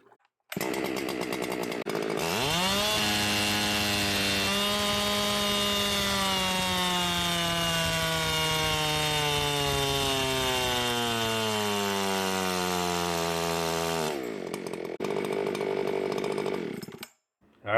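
A modified Echo CS-7310P chainsaw revs hard and cuts through wood. It screams steadily for about twelve seconds, and the pitch sags under load before it returns to idle. The sound is loud and close, with no talk.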